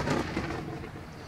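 Deep, rumbling storm thunder in the Roblox game, a loud rolling roar with broad noise like heavy rain, sustained without a break and with no voices.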